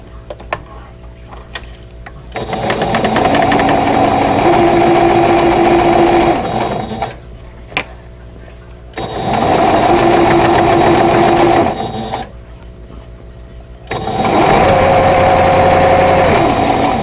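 Sewing machine stitching a quilt block seam runs in three loud bursts, each a steady buzzing whir lasting a few seconds, separated by quieter pauses with faint handling sounds.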